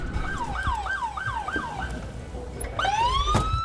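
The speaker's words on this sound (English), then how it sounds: "Lights and sirens on." A police siren in Los Angeles wails nearby in a rapid, repeating yelp, then shifts into a long rising wail over traffic rumble.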